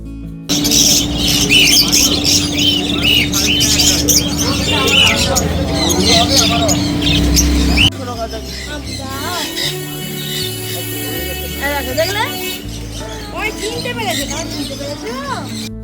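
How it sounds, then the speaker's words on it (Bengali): Many small pet birds, including a red bird with velvety plumage, chirp and squawk constantly and loudly close by in a busy home, with a background hubbub; the sound shifts partway through to sparser, clearer calls. "এদের কিচিরমিচির আওয়াজ শুনে মনটা বেশ ভালোই লাগছে"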